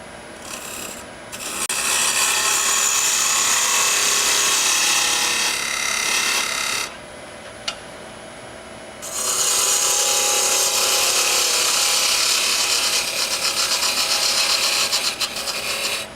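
A wood lathe turns an end grain box blank while a tool cuts tenons, giving a loud, continuous scraping rasp that pauses briefly midway before resuming.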